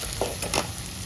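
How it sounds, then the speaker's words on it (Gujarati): Onion, ginger, tomato and green chili frying in oil for a dried bombil fish curry, a continuous sizzle with a few short stirring scrapes breaking in. "ખાલી ઘડી કલર ચેન્જ થાય ત્યાં સુધી તેલમાં તળવાનું"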